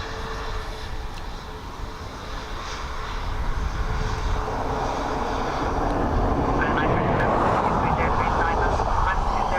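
WestJet airliner at Dublin Airport on a windy day, a broad steady engine roar that swells louder midway and holds, with a voice talking faintly over it.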